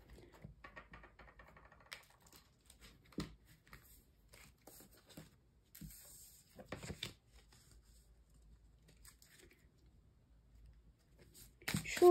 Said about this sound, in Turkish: Şuradan da birkaç kart alalım.